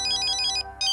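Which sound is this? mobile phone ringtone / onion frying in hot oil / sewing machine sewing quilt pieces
mobile phone ringtone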